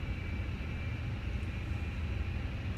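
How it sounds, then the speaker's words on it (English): Standby gyro spinning up in the cockpit of a Fenix A320 flight simulator, a steady whine held over a low continuous rumble of cockpit and engine noise, constant throughout with no voices. "You can hear the gyro spinning up."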